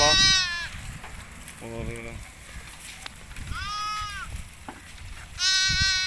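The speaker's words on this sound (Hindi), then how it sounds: "ये देख अभी ये जानवर खा रहे हैं, भेड़े भी खा रही हैं माशाल्लाह।" Sheep grazing on cotton plant leaves in a village field give several loud wavering bleats, near and spaced apart, amid outdoor noise while someone speaks briefly.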